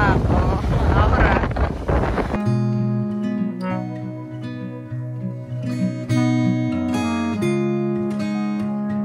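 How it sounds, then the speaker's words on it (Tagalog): Heavy wind on Siquijor buffets the microphone with a low roar for a couple of seconds, then gives way to music with rumbling gusts underneath. "Kaso sobrang lakas ng hangin."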